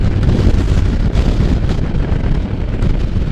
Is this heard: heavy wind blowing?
yes